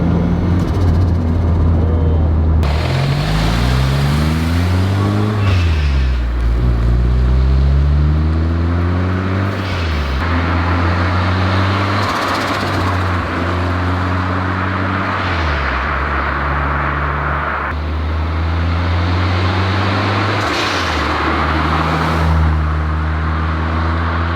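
A quiet car with almost no exhaust note drives along, heard from inside as a smooth, low drone whose pitch climbs and drops with each gear change, steady and unobtrusive throughout.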